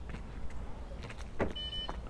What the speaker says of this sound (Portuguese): Ele travou as portas